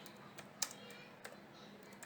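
Someone types a search into Google on a computer keyboard: a few faint, scattered key clicks over a soft background hiss.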